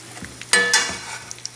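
Chicken pieces for chicken piccata frying in a hot pan, giving a brief loud burst of sizzle and stirring, then a steady crackling hiss that tails off over a second, with no voices.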